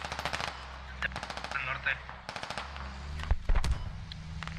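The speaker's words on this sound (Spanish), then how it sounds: "Si tienen MG montadas en los techos y de ahí suprimen." Mounted machine guns fire from rooftops in the video game Squad as repeated rapid bursts, some distant and some nearer and louder, while a player speaks briefly over the gunfire.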